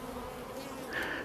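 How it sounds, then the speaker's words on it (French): Honeybees at a beehive give off a brief, faint, continuous buzz, a soft droning hum with no talk over it. "j'ai regardé un petit peu ce que font les abeilles"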